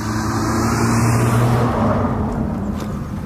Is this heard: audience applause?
no